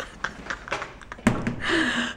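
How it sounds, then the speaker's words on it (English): Knocking on a door indoors: a few quick, light raps followed by a sharper, louder knock, with faint room noise and no talking. "I'm gonna knock on the door"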